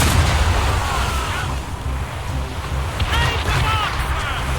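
Cannon fire booms repeatedly through a naval battle in Assassin's Creed Rogue, loud low blasts over wind and sea noise, with shouting voices of the crew mixed in.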